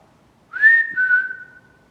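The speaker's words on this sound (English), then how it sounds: "If I whistle, can you whistle back?" A single clear human whistle rises briefly then holds a steady, slightly falling tone for about a second against near silence inside an abandoned hospital.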